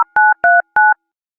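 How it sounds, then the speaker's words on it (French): Four short two-tone electronic beeps, like telephone keypad tones, play as notes to copy in a duck race video game, evenly spaced and clear before silence. "Utilisez les chiffres pour reproduire les notes que vous entendez."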